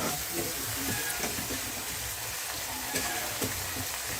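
Rice frying in a small amount of oil gives a steady, moderately quiet sizzle and hiss, with occasional faint scrapes and stirring clicks, and no talking.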